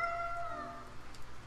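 A cat meows from a box in the video game Tales of Berseria, one drawn-out, faint wavering meow over a low background hum.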